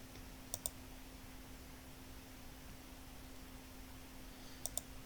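Computer mouse clicks while deleting a row in an Excel spreadsheet: two quick pairs of sharp, close clicks a few seconds apart over a steady electrical hum and background hiss.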